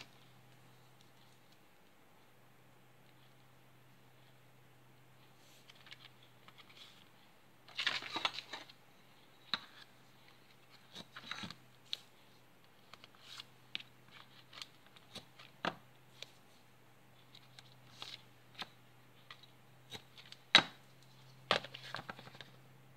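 Scattered crackles and short tearing rasps of adhesive tape being pulled and pressed down while making a birthday card, quiet and close, over a low steady hum, with no talking.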